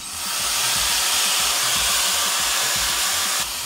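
A Tymo Airhype hair dryer blows steadily with a loud, even rushing hiss that runs almost the whole time, cutting off slightly near the end.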